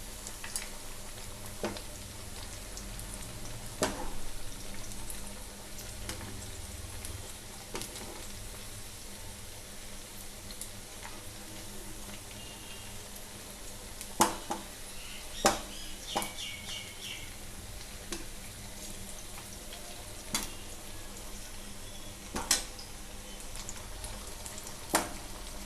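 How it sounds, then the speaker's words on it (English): Lachha chicken pakode frying in hot oil, a steady low bubbling sizzle over a long stretch with scattered sharp pops and crackles, heard alone at moderate volume. "Now we have to flip them slowly and fry them until they turns into a golden brown color."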